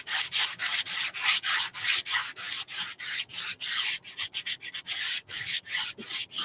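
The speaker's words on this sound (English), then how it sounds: "I'm going to give it just a little sanding again" Light hand sanding of a craft surface, a steady run of short rubbing strokes, close and fairly loud, with quicker, choppier strokes near the end and no talking.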